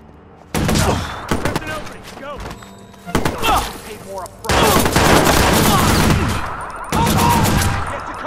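Heavy gunfire in the video game Watch Dogs, several loud close bursts of rapid shots with brief pauses between, while voices talk during the exchange.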